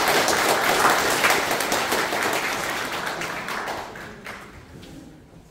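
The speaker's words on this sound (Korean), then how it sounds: "큰 박수 부탁드립니다" A crowd at the Pocheon community council merit award ceremony claps loudly in a dense, even burst that gradually thins and fades away over several seconds.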